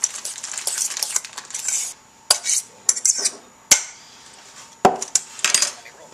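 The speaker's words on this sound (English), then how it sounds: "and mix that all together" A spoon stirs and scrapes through Hungry Boys casserole ingredients mixed with slivered almonds in a bowl, giving close, irregular clinks and scrapes in short bursts with brief pauses between strokes.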